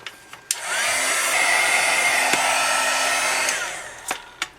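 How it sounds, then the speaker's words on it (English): Heat tool blowing hot air to melt embossing powder over ink on a card, a steady loud fan roar lasting about four seconds, bracketed by a few sharp clicks as it switches on and off. "I've added my embossing powder. I'm going to go ahead and heat set this."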